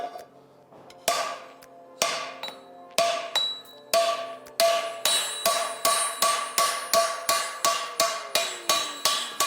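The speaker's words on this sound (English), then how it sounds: "So we're going to go ahead and hammer out these wrinkles here," A blacksmith hammers wrinkles out of a hybrid metal skillet with sharp, ringing metallic blows. They start sparse, then settle into a steady, rapid rhythm, close and loud, and each strike rings out briefly.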